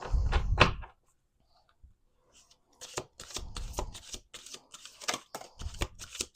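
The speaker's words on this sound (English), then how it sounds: "Let's do one more shuffle." Oracle cards riffle and snap together in a quick burst, then after a pause a longer run of rapid shuffling clicks and flutters close by.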